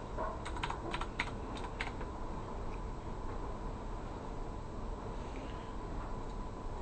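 A file name is typed on a computer keyboard, a short burst of quick clicking keystrokes early on, then faint sparse taps over a steady background hiss.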